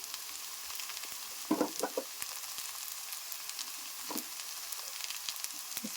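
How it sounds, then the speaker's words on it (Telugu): Garden vegetables sizzle and fry steadily in hot oil while being stirred, with a few louder scraping clatters of the spoon against the pan and no talking. "ఇలా మొత్తాన్ని ఆయిల్లో కలిపేంత వరకు తిప్పేసి"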